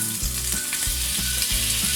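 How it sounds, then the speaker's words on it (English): Beef frying in about four tablespoons of oil in a pan for a village-style beef soup, a steady close sizzle with recurring clanks and scrapes of stirring. "I'm going to put the beef in."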